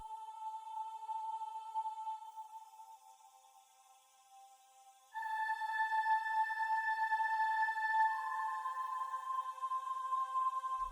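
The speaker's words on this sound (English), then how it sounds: "It's the female ooh choir." A female "ooh" choir vocal patch from the Expand synth plugin in FL Studio sustains soft, pure held tones, a quiet chord that shifts to a brighter, fuller voicing midway, with no speech.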